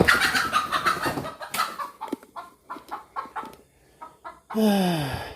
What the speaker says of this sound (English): the rooster's back and he's on my car